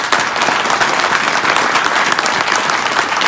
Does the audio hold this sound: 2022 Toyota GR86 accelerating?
no